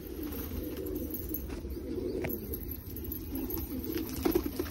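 Pigeons coo softly in a loft as birds are released, a low steady murmur of cooing with faint noise, no talk.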